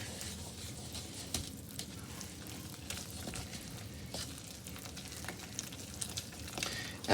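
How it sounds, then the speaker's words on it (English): Cowboy casserole being stirred in a sizzling pan, a steady crackling fry with soft scraping and occasional light knocks of the utensil, close and continuous with no voices. "Get this all stirred up here."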